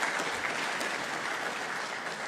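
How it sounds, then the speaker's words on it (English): A summit audience in Accra applauds a global health expert, a dense, continuous burst of many hands clapping at close range with no break. "Let's acknowledge her with a round of applause."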